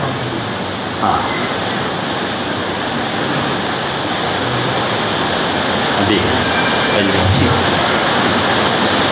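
Heavy rain pours down outside during an evening religious lecture in Melaka, a dense, steady roar that fills the whole stretch without letup.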